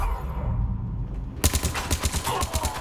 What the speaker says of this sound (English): Who's rudely shooting at us?